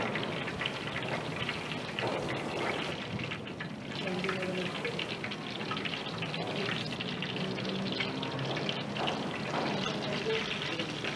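Chicken frying in hot oil in a hotel-style cooking demo, a continuous dense crackle and bubbling sizzle heard close, with speech faintly present beneath it.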